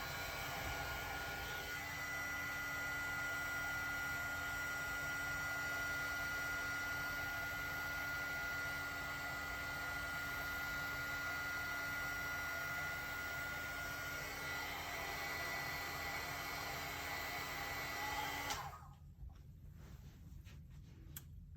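A heat tool blows steadily as it melts embossing powder on a thank-you card, a constant whirring fan hiss for most of the clip before it cuts off.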